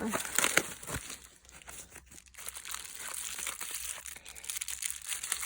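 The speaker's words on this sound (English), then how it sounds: "it has bubble wrap underneath this too" Bubble wrap crinkles and rustles steadily as a subscription box package is unboxed, a soft, close, continuous crackle that comes in uneven handfuls.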